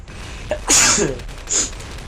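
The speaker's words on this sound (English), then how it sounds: "I sneezed" A single sharp, close sneeze, followed a moment later by a short breathy sniff.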